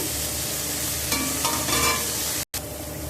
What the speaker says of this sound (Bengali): ছোটো ছোটো নোনা মাছগুলো ভাজা করতে বসে